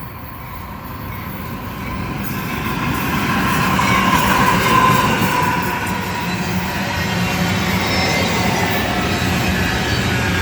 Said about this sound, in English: Got us a train coming.